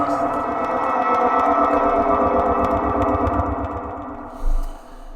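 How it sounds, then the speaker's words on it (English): Podcast conspiracy jingle played with a heavy echo effect: a loud, distorted, repeating pulse with ringing tones that holds steady, then ends in a short low thump and a fading echo tail, with no talk. "unexpected appearance of our conspiracy jingle there"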